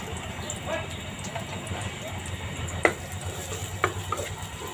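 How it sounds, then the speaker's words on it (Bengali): Onions frying lightly in hot oil in a pan for a home-style ridge gourd and small fish curry, a steady low sizzle with two sharp scrapes of a spatula partway through. "পেঁয়াজটা আমি হালকা করে ভেজে নেব"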